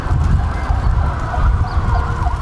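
Emergency vehicles, fire trucks and ambulances, sound their sirens at the scene of a fire at a paint shop, loud wailing tones sweeping up and down over heavy low rumble and street noise.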